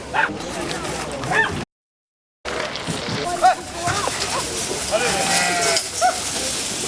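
Sheep bleat repeatedly amid a noisy crowd of animals at an agricultural show sheep shearing competition on the Isle of Skye, with a brief dropout of silence near the start and continuous rustling background.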